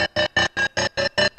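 A resampled Craftsman tape measure sound runs through a gated effect, chopped into eight evenly spaced loud pulses with abrupt cutoffs and a steady rhythm.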